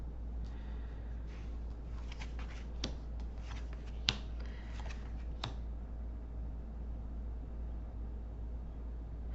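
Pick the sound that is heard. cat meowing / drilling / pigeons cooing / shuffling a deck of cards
shuffling a deck of cards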